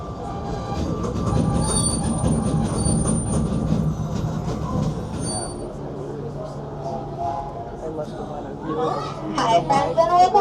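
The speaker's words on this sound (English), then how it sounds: "welcome aboard the Disneyland Railroad" Disneyland Railroad train rolling along its track on the last ride of the night, a steady rumbling run with faint wheel squeal and clatter, loudest at the start and ending with a brief burst near the close.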